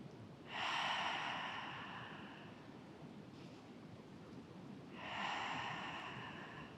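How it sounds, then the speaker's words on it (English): Two long, breathy exhalations through the mouth during a yoga flow, each a soft hiss swelling and fading, close and fairly loud against a steady low background rush, with a faint breath between them. "begin to breathe out through the mouth"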